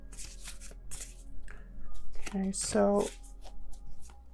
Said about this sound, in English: It's really hard to shuffle, but I love the artwork of this deck.